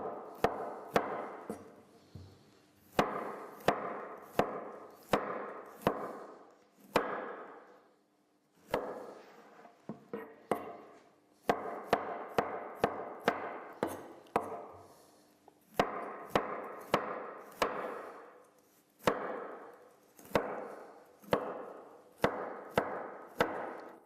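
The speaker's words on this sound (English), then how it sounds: "And now I'll just slice this up as well." A knife slices vegetables for a cheesy potato and broccoli bake: crisp chopping strokes land on a board in quick bursts of four to eight, with short pauses between runs, close and clear throughout.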